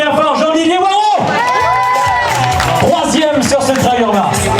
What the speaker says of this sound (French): on applaudit bien fort Jean-Didier Waro,